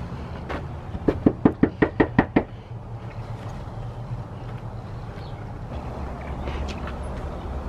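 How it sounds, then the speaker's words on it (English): A fist knocks on a front door: a quick, sharp run of about seven close, loud raps over outdoor background noise, followed by quiet ambience. "Let's go knock on the door"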